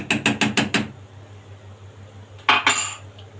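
Cream is stirred into rice pudding with a spoon in a pot, giving a quick burst of five rhythmic metallic scrapes and clinks. A pause follows, then another short pair of scrapes, all close and without talk.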